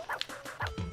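Video game dog from a Beethoven title makes short yips and whimpering barks in quick succession, fairly close and moderately loud, with no talk over it.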